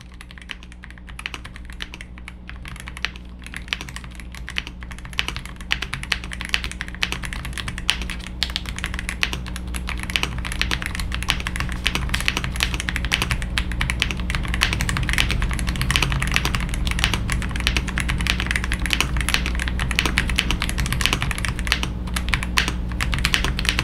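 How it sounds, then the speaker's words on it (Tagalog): Fast, continuous typing on a RAKK Pluma V2 computer keyboard, with dense, close clicky keystrokes over a steady low hum, no voices. "Maganda yung typing feels niya kasi"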